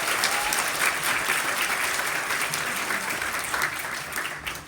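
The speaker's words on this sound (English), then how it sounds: "Let's give them one more round of applause." Sustained applause from a large audience, loud and steady throughout, with scattered cheers.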